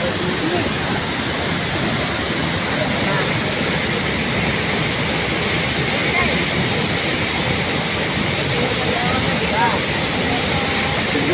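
Songkilaw Falls, a waterfall, pours with a steady, dense rushing roar that stays loud and even throughout, close by, with no talk over it.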